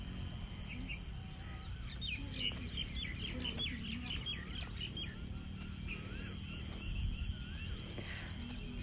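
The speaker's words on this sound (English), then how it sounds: "you have these birds chirping around you" Small birds chirp in scattered bursts through a steady outdoor hum in a rice paddy village, with faint rustling and distant ambient noise.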